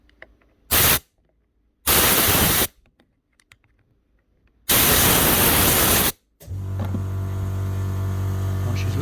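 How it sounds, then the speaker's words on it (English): An air compressor line fires three sharp, loud bursts of compressed air at a power tool chuck, each lasting about a second, and then a steady machine hum takes over. "I want to try get the compressor on here"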